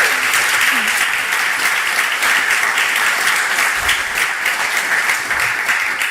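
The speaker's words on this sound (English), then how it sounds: "A round of applause for Kayleigh." A conference audience at a Contentsquare EMEA 2025 event breaks into steady, dense applause that lasts throughout.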